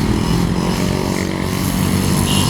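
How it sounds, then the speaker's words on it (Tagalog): A ride-on grass cutter with its cutting blade underneath runs steadily outdoors in BGC, giving a continuous, fairly loud engine drone with no pauses and no voices. "Ang grass cutter nila, may blade pala yan dyan sa ilalim"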